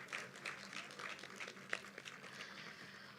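Steady applause from an audience at a university anniversary award ceremony, a dense wash of many hands clapping at a distance, fairly faint, with a single sharper clap near the middle.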